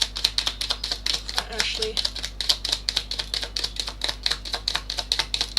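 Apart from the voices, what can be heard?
shuffling tarot cards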